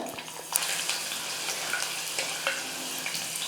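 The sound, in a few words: garlic frying in oil with mustard seeds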